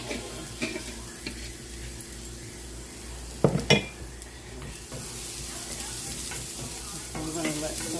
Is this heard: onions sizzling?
yes